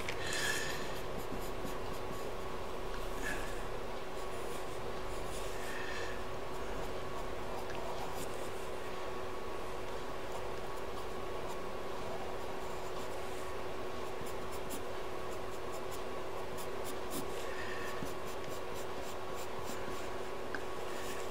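Graphite pencil sketches a spring landscape on paper, with soft scratchy strokes and small twisting flicks as branch tips taper, quiet and close, in short irregular bursts over a faint steady background hum.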